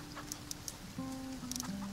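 Chickens cluck softly in the farming video game Farm Together, a few short clucks and a longer held call over a quiet game background.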